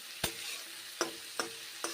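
Yardlong beans fry in a pan, a soft continuous sizzle punctuated by four sharp stirring clicks spaced unevenly, close and fairly quiet with no voices.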